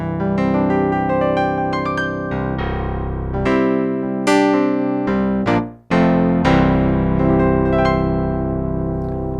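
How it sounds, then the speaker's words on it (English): A Nord Stage 3 playing its DigiGrand 2 synthetic piano sound, a bright, slightly biting run of chords and single notes with one brief drop-out before the phrase resumes at full level. "So if you find the DigiGrand 2 sound within the piano section, you'll find a sound like this."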